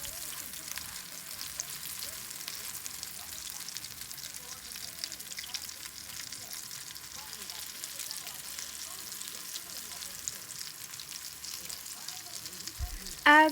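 Potato cakes fry in a pan over lower heat, giving a soft, steady sizzle that runs throughout. A brief louder clatter comes near the end.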